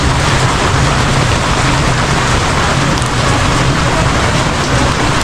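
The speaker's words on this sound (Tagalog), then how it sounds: "Walang pag-asang tumigil yung ulan." Heavy rain pours down in a dense, constant roar, loud and unbroken from start to finish with no voices.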